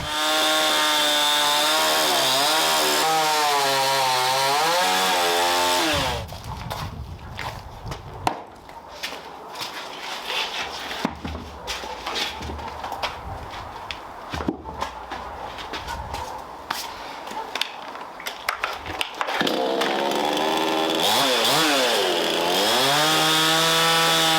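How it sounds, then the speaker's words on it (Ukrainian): A chainsaw whines loudly at the start and end, with a long stretch of rough, grinding cutting lengthwise through a log in between. "ділимо кругляк вздовж навпіл"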